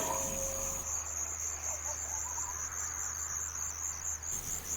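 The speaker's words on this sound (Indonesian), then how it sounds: "Sesekali kudengar suara binatang malam seperti jangkrik" Crickets chirp at night in a steady, dense high trill that continues unbroken throughout, with a low hum underneath and no voices.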